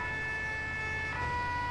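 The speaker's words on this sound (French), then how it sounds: "Je mets les sirènes" A fire engine siren wails steadily in the video game GTA 5, a continuous loud tone over a low engine rumble with no talk.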